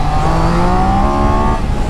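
A Triumph Daytona 660 sport motorcycle with a 660 cc engine accelerates hard from the mid range, a loud close engine roar with rising pitch that drops off sharply at the end.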